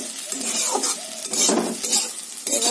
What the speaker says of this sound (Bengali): তো উচ্ছে আলু একসাথে মিশিয়ে নিচ্ছি।